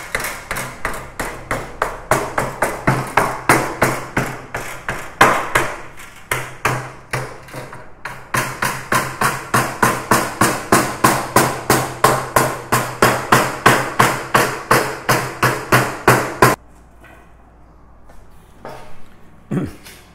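Wire mesh for an all-wire quail cage, clamped along an edge and bent over, giving a long run of fast, loud, regular metallic tapping strikes with a short break in the middle, then a quieter stretch with a few scattered knocks.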